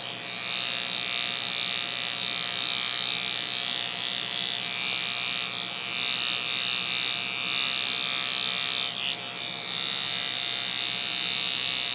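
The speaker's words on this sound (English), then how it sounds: "We use a shaver with disposable heads." A steady, close electric shaver with a disposable head buzzes continuously, with a brief dip in pitch near the end as it presses against a patient's skin at a laser aesthetics clinic.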